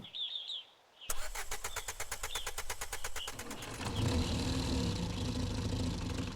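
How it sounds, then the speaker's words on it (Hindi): A taxi's engine cranks with a rapid steady starter rattle for a few seconds, then catches and settles into a loud continuous idle, with faint bird chirps before it starts. "इस बार उसकी गाड़ी स्टार्ट हो गई।"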